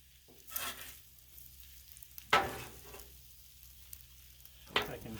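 Shrimp fried rice sizzling on a Blackstone griddle, a soft hiss broken by three short scraping bursts of stirring.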